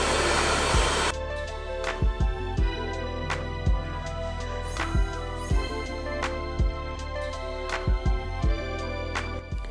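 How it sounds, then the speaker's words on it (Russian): A hair dryer blows hair dry with a loud, steady whooshing roar for about a second at the start. It cuts off abruptly, and music with a steady beat plays for the rest. "теперь сушу голову и занимаюсь своими волосами"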